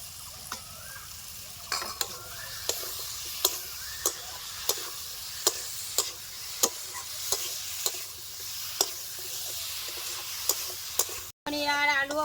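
Paneer, potatoes and slit green chillies fry in masala while a spatula stirs them, sharp regular scraping taps roughly every half second over a soft steady sizzle, close by, with a brief cut near the end.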